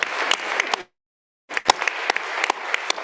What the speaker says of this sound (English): Let's give Randy a round of applause for stepping in.